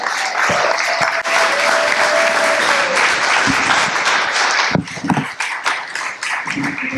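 An audience at a comedy show applauds comedian Jeffrey Gurian with loud, steady clapping that continues, then thins into scattered, uneven claps toward the end.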